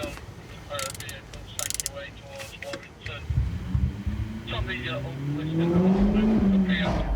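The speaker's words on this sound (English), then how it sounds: "Mike's quickly spotted one of the area's notorious, noise-polluting boy racers." A noisy boy racer's car approaches on a road at night, its engine rising in pitch through gear changes and growing louder over the last few seconds, with mechanical clicks and other traffic noise underneath.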